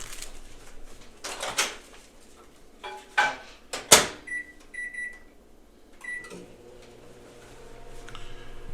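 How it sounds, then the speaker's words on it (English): A microwave oven runs with a low steady hum while warming creamed chipped beef, after door and button clatter and a few electronic beeps near the start; the hum continues alone. "we're going to start by putting this cream chip beef in the microwave"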